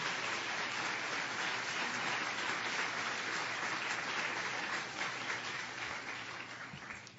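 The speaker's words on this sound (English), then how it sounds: "I think that's the most sustained applause we've had from PIOs at this particular annual meeting" Sustained audience applause for panelists at a science-communication seminar for public information officers, a steady wash of many hands clapping at moderate distance, gradually thinning toward the close.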